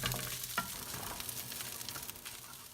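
Rice and egg stirred in a frying pan for vegetable fried rice, a steady low sizzle with a few spatula scrapes and clicks, close and fairly quiet, no voices.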